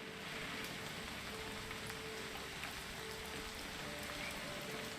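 Steady rain falls on surfaces in the game What Remains of Edith Finch, a soft, even, continuous patter with no voices, quiet and unbroken throughout.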